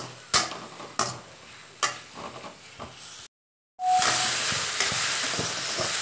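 Onion and tomato sautéing with salt in a pan for a paneer potato gravy, with sizzling and repeated scraping stirs, a brief silent gap, then a louder steady frying hiss.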